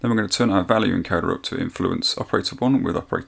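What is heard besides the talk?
No distinct noise like a dog, phone or traffic.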